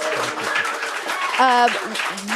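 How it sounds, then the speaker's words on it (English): A small crowd gives a brief round of clapping during a live broadcast at a nature museum, light and close, mixed with talking voices throughout. "Maybe everyone could do a little clap, remind them that we're here."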